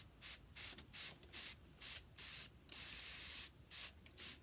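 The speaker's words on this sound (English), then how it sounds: "Then this time when I spray it, I really want to saturate it." Starch is sprayed onto a ruffled vintage linen doily, a quick series of sharp hissing pumps from a spray bottle close by, about a dozen bursts with one longer continuous spray in the middle.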